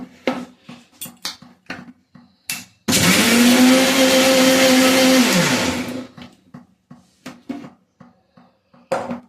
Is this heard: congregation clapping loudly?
no